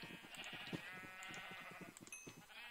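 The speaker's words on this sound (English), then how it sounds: "Them goddamn sheep are so loud." Sheep in the video game Minecraft bleat over a steady bed of in-game ambience, several quick overlapping calls spread across a few seconds, fairly loud and continuous, with no voices.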